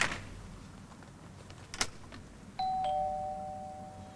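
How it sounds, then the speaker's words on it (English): A doorbell in a 1973 British television drama gives a couple of soft knocks or clicks, then a clear electronic chime that sounds one note and holds it, with a second, lower tone joining, ringing steadily to the end in a quiet room. "Ding dong, King Kong"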